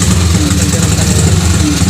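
Yamaha STX 125 motorcycle engine running at idle close by, a steady loud buzzing throb with no change in pace over the short stretch.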